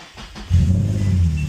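A 25-year-old, worn Nissan G35 fires up, a quick starter churn giving way to a loud, close engine that settles into a deep, steady idle.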